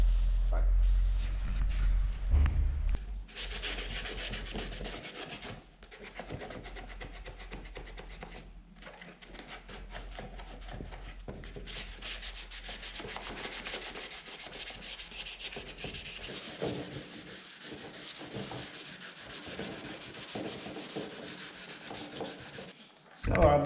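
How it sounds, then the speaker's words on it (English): Close, steady rubbing and scrubbing of an abrasive pad wet sanding a Volkswagen Transporter's rear doors, continuing for a long stretch with brief pauses, muffled and rasping. "the doors are now wet sanded"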